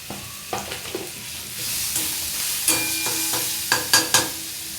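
Vegetables sauté with turmeric in a pan, a steady soft sizzle broken by several sharp scraping taps of a spatula as they are stirred, with no talking.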